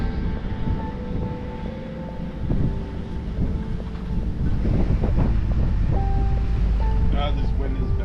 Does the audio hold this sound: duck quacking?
no